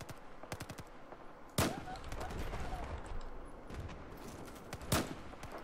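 Gunfire in the video game Battlefield 4: two sharp, loud shots about three seconds apart stand out over a steady bed of game noise, with a few fainter rapid pops early on.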